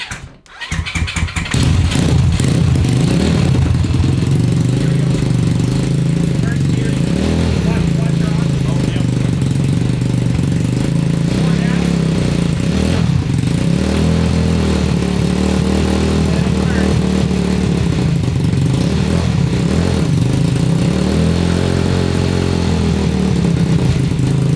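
A 190cc five-speed yard kart engine catches and then runs loud and close, revving up and down in repeated swells over a rough idle, with people talking over the noise.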